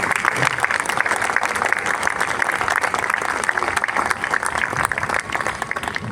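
Sustained, dense audience applause fills a hall at a classical Indian music concert, steady and loud throughout with no break, many hands clapping at once.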